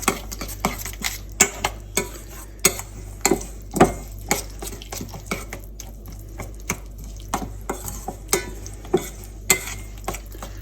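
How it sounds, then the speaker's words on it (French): A spoon stirs and mixes salmon tartare in a bowl, close up, with irregular clicking taps and scrapes in a loose repeating rhythm. "et on mélange bien. Vraiment que tout soit bien mélangé."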